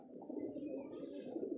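Pigeons let out in the daytime sun, a soft steady cooing from nearby birds running continuously without pause, no voices.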